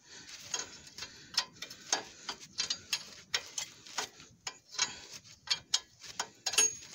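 A ratchet wrench clicks steadily while unscrewing a suspension arm bolt on a Fiat Stilo 1.9 JTD, a quick string of sharp metallic ticks up close with no talk.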